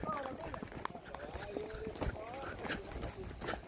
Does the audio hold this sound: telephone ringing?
no